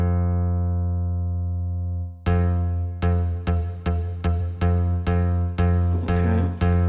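A guitar sample played back in a PPG WaveMapper synth with looping off: one long decaying note, then a run of repeated plucked notes, each fading quickly, with no talking.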